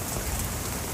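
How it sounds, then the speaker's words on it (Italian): A brief burst of hail falls steadily on plants and surfaces outdoors, a dense, uniform rattle heard up close and alone. "Così. Niente, è proprio grandine."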